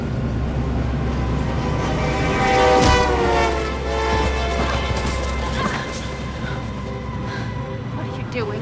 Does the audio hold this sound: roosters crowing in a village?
no